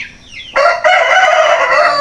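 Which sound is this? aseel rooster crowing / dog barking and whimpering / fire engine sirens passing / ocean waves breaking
aseel rooster crowing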